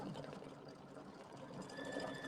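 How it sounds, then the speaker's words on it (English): Embroidery machine quilting a swirl stitch on a cherries quilt block, a steady fast mechanical whir and needle chatter running continuously at close range, with no talk. "Just doing a swirl. We're getting about done with the quilting here."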